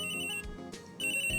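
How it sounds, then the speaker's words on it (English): Electronic telephone ringtone in Phoenix Wright: Ace Attorney, a bright repeating chirp that plays, breaks briefly, then resumes, loud and alone. "I got another phone going off."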